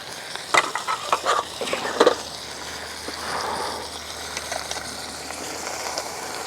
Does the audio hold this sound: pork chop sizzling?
yes